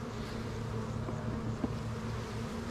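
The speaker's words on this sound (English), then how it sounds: "So we have a lot of bees on the ground out here that I just now noticed." Honey bees buzz steadily outdoors on the ground beside a hive, a dense continuous drone with no voices.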